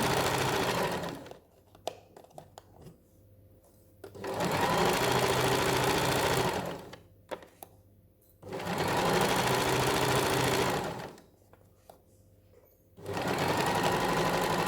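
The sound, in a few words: sewing machine stitching a cushion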